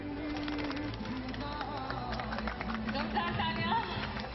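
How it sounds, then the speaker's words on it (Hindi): Pigeons are set free to open a Kashmiri cultural celebration, with cooing and bird calls mixed into a busy, steady outdoor crowd din and murmuring voices. "इसकी शुरुआत कबूतर उड़ाकर की गई।"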